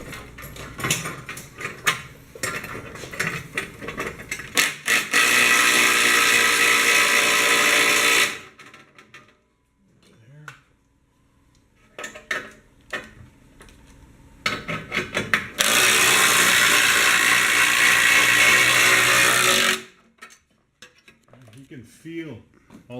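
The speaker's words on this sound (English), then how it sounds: "you want to torque both bolts kind of a little bit at a time" Bracket bolts on a Nissan Pathfinder R50 skid plate being tightened, with bursts of rapid ratcheting clicks, two long loud sustained power-tool runs, and quiet gaps between them.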